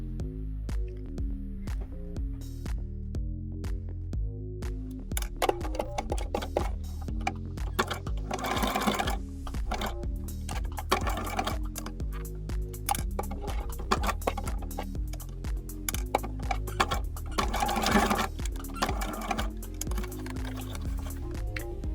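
A domestic sewing machine runs in steady, close rhythmic bursts as it stitches narrow buttonholes into women's pajama fabric, its needle ticking fast and loud with brief pauses between runs.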